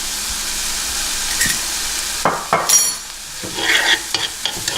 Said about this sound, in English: I'm going to continuously stir this so that it doesn't burn.